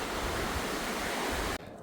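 River water rushes steadily beside a pilgrims' path on the Camino between Cacabelos and Trabadelo, a loud, even wash of flowing water that cuts off abruptly just before the end.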